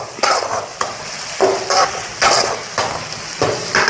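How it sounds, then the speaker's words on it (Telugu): Sliced onions and curry leaves fry in a pan with a constant sizzle, broken by about half a dozen regular, scraping stirring strokes, close up with no one speaking. "చూడండి ఆనియన్స్ వేగుతున్నాయి."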